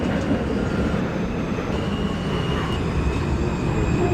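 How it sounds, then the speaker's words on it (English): An R160A subway train on a Brooklyn-bound M local run in the OpenBVE simulator rumbles steadily throughout, a continuous loud low roar of running gear and wheels with faint high whines and no voices. "This is a Brooklyn-bound M local train."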